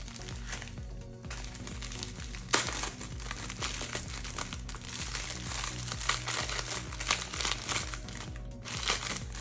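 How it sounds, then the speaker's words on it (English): Close, irregular crinkling and rustling of a plastic resealable bag holding diamond painting drills, with sharp crackles scattered throughout and no talk. "a lot of crinkling."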